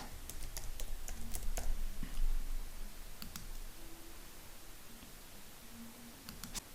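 Clicking and tapping on a computer keyboard while a page name is typed into a website builder, light irregular keystrokes in short bursts over a low background hum.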